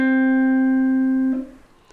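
A single guitar note rings steady and fairly loud for over a second after a pull-off on a string, then cuts off and leaves only soft string and room noise.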